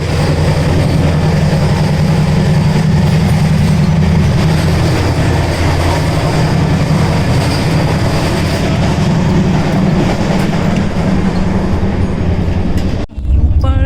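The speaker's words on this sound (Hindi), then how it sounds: "फाइनली मेरी ट्रेन आ चुकी है और अब मैं जाने वाली हूँ अपने घर।" Passenger train at a station in India, a loud, continuous rumble and clatter of rolling carriages close by, ending in a sudden break near the end.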